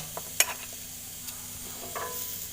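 Shrimp paste and garlic roasting in a Happy Call pan make a soft, steady sizzle, broken by a few light clicks and scrapes of stirring.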